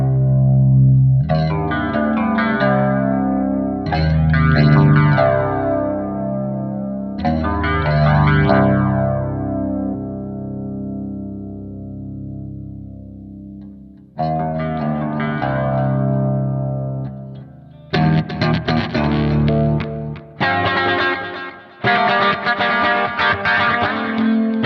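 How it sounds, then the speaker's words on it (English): Metal electric guitar played through a Spark amp with a flanger effect, sustained distorted chords swirling and sweeping, ringing out between pauses, then turning into choppy, rapid, gated strumming toward the end. "Let's see what the flanger is like if we turn that up a little bit."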